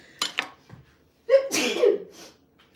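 A single loud, close sneeze with a sharp intake of breath before it, preceded by a few soft breathy sounds.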